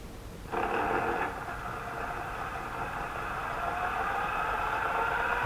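Small electric motor on a homemade guitar pickup winder spinning clockwise, a steady whirring hum that kicks in sharply and holds at an even pitch, close and alone.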